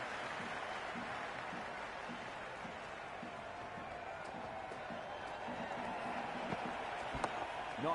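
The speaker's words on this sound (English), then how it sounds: "The crowd is electric right now." A stadium crowd roars during a Cricket 26 World Cup final match, a dense, steady wash of cheering and clapping that holds throughout with a few faint sharper claps.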